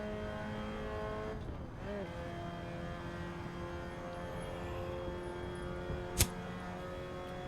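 A race car engine in the Assetto Corsa racing game drones steadily at high revs, with a pitch dip and swoop partway through and a sharp click near the end, fairly quiet overall.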